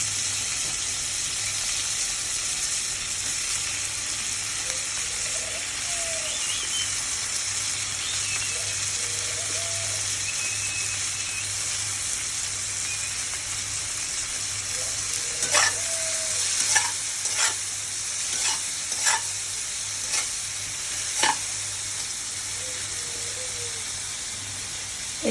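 Tomatoes frying in a pan for egg curry give a continuous sizzle, with a run of sharp scraping stirs in the latter half.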